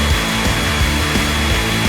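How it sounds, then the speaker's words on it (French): A hair dryer blows loudly and continuously, its broad airy roar mixed with low rhythmic pulsing as it heats grains spread on a plate. "Comme avec un sèche-cheveux."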